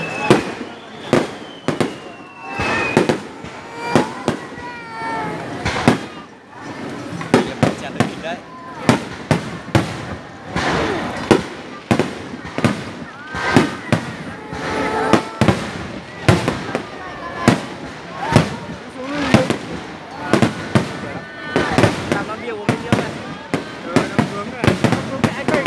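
Fireworks bursting at a fireworks festival, dense rapid sharp bangs and crackles going off continuously, loud and close, with crowd voices calling out in between.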